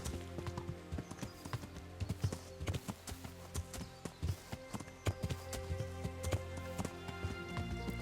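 In the video game Kingdom Come: Deliverance, a horse's hooves clop rapidly and steadily in a continuous galloping rhythm, fairly quiet and heard without talking.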